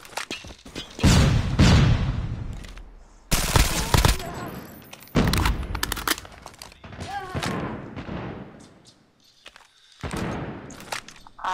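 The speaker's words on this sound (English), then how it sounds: "Flashbang!" Gunfire and explosive thuds in a shooter video game match where a flashbang grenade goes off, with loud bursts of shots and bangs mixed with players' voices and in-game announcer talk.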